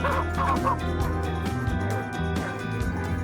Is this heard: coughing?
no